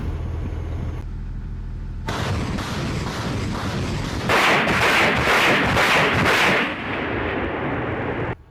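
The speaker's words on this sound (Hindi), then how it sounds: "इस फेंसिंग के बाद रूस ने यूक्रेन पर MLRS दागी हैं।" Russian MLRS rocket artillery firing on Ukraine: heavy roaring launch blasts follow a quieter opening, swelling into a loud, dense run of rapid pulsing bursts before easing off.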